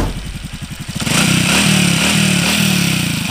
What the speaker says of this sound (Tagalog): Smooth na ulit tong makina ni bossing. Crossover Suzuki.